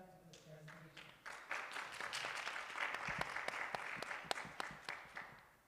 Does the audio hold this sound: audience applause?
yes